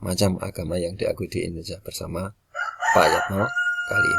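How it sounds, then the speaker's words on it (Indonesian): A rooster crows in the background while someone speaks throughout, the crow rising clearly in a pause between his sentences during an Indonesian school lesson. "ini suara kokok ayam jantannya udah mulai mengiringi pembelajaran kali ini"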